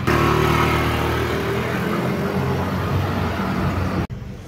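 A Yamaha NMAX v2 scooter engine idles steadily close by, a smooth even drone that cuts off abruptly near the end.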